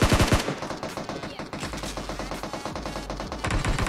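Gunfire in the PUBG battle royale game: a rapid, loud automatic burst opens, then gives way to steady repeated shots and clicking weapon mechanics that run throughout.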